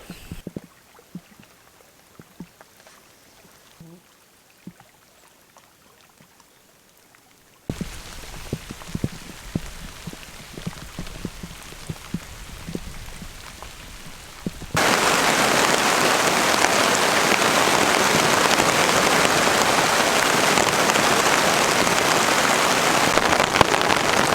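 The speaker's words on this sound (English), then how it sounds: "it just started raining again now" Rain at a remote wilderness camp in Scotland, quiet at first, then steady pattering, then a loud, dense downpour that holds for the final stretch with no talking.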